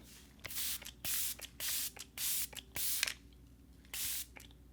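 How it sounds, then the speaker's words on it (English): Seven short bursts of e.l.f. makeup setting mist sprayed close by, each a soft hiss lasting about half a second with brief pauses between, alone with no talking. "I'm just gonna set with the e.l.f. setting mist."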